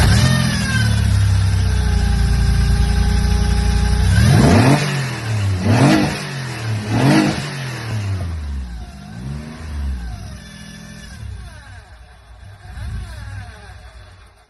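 A Lancia Stratos replica engine runs close by, starting at a steady idle, then giving several sharp revs that rise and fall before settling back to a smooth idle, with a faint whine audible.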